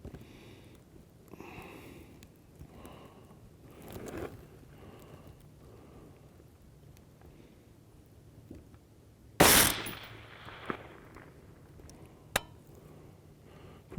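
A rifle fitted with a Trijicon ACOG TA31 scope fires at an outdoor range: after a stretch of quiet background, one sharp, loud shot cracks out, and a fainter, shorter report follows a few seconds later.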